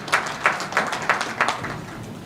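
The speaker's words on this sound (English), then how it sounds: "Let's clap as he received it." Conference audience clapping for a gift recipient, a short, thin round of applause with a handful of distinct, loosely rhythmic claps that fades out.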